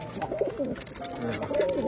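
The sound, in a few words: pair of tumbler pigeons cooing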